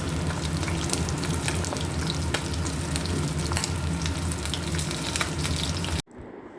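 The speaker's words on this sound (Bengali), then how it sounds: "এই যে খাবার সময় বড়াগুলো ভেজে নিচ্ছি গরম গরম" Bora fritters fry in hot oil in a pan, a steady, close, crackling sizzle that runs unbroken for about six seconds before cutting off abruptly.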